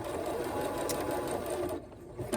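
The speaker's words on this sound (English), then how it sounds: "keep sewing the little triangle dart right here until it goes about 1" A sewing machine stitching a small triangle dart on a surgical mask, a fast steady mechanical whir of needle strokes that drops off near the end, close and alone.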